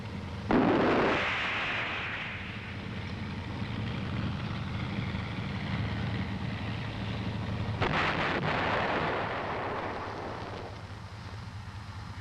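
An M551 Sheridan armored vehicle fires its main gun with a sharp heavy blast that decays into a long rumble, and a second rumbling burst follows later, heard outdoors under wind noise.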